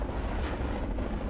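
In a tank battle video game, an aircraft passes overhead as a steady, broadband engine roar, moderately loud and continuous throughout the short moment, with no voices.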